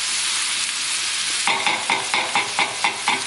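Onions, garlic and herbs sweat in a pan over a low flame, giving a soft, steady sizzle. After a moment a spoon starts stirring in a quick, regular rhythm of about six scrapes.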